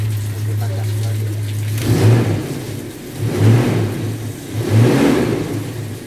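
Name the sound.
car engine revving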